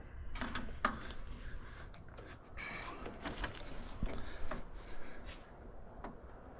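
Hydroboost hose fittings being tightened on the Penny build while installing a Vanco hydroboost kit, with close metallic clicks, ratcheting and tool clinks in an irregular run, no talk.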